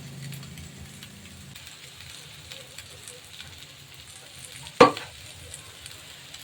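Vegetable fried rice made with basmati rice and pepper powder is stirred in a pan, with a quiet continuous sizzle and one sharp scraping clatter of the spoon partway through.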